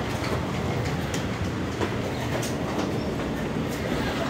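A subway train rumbles through the Grand Central Station area, a dense, steady rolling noise with faint metallic clacks and ticks scattered over it, and no clear talk.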